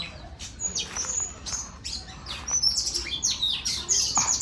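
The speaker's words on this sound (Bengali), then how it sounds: "দোয়েল পাখি ডাকতেছে মেবি" An oriental magpie-robin sings nearby in a Bangladeshi village with a run of bright, varied whistles and chirps, the phrases growing busier toward the end.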